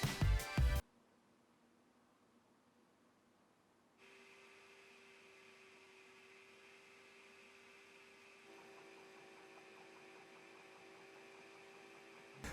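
A Tronxy X1 3D printer kit running at full speed with its stepper motors and stock 40mm fan, a quiet steady hum and whir that shifts in pitch partway through, with a brief louder burst at the start.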